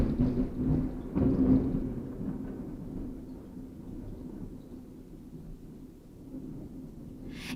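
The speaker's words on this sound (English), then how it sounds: "it's thundering outside." Thunder rumbles outside, a deep, rolling boom that swells loudest near the start and then fades into a long low grumble, muffled as if heard from indoors, with no speech.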